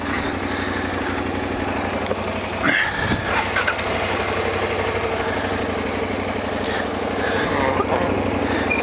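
A heavy motorcycle engine runs steadily nearby, a loud continuous buzzing drone with a brief revving surge partway through, no talk over it.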